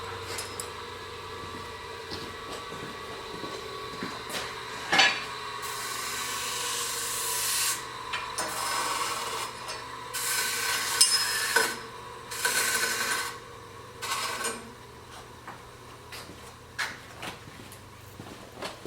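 Grinder working the end of a pipe for a 1953 reel mower carburetor, with hissing bursts of grinding in several stretches of a few seconds each, separated by quieter gaps with small clinks, close and without talk.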